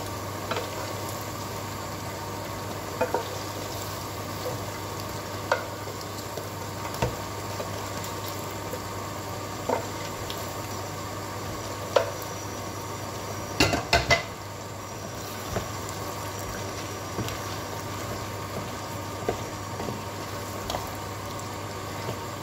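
Sweet, sour and spicy pepper sauce with fried chicken simmers in a pan, giving a steady low bubbling hiss. Faint clinks of utensils come through now and then, and no one speaks.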